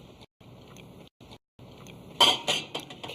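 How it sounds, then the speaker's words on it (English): Metal pot lifted with a spoon while making mushroom soup, giving a few sharp clinks and clatters close by after quieter kitchen handling noises. "Notice how I'm picking up the pot with the spoon?"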